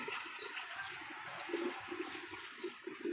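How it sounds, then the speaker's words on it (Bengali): Low, soft cooing from a male and a female pigeon repeats in short bursts over a steady hiss of background noise. "পাগলা ডাকা ডাকে কবুতর দুইটাই"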